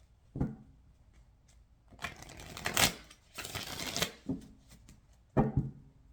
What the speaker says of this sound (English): I need to shuffle this deck out a little bit